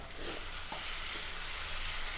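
Steady, continuous sizzling of prawns frying in a hot pan, with faint scraping of stirring now and then; no voices.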